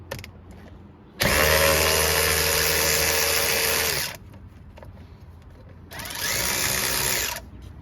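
A power drill or impact driver backs out the brake hardware bolts on a Can-Am Defender UTV, giving one loud sustained whirring burst of about three seconds, then a shorter second burst after a brief pause.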